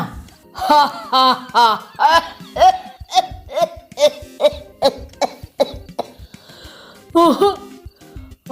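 A run of repeated harsh coughing bursts in an uneven rhythm, close and loud, with a short pause before a final cough.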